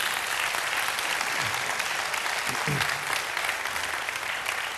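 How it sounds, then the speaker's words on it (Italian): Sustained, dense applause from an audience at a Rotary International district assembly in Vicenza, loud and even throughout with a brief voice underneath. "Vi fate sentire con un bel applauso?"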